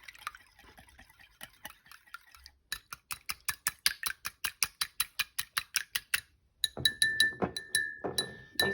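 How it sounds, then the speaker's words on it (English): A whisk clinks rapidly against a glass bowl while mixing chicken nugget coating of egg and golden bread crumbs. The quick, rhythmic taps come in two bursts separated by a short pause. "So after, then you give it a whisk. You whisk it."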